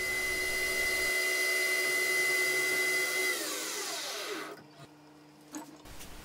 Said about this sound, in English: it's just an FC insert doing its thing at 3000 RPM